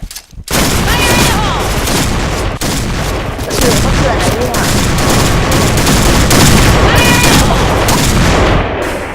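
Dense, continuous gunfire from several weapons firing at once in the shooter game Point Blank during a clan war on the Downtown map, with loud overlapping bursts and shots sustained throughout.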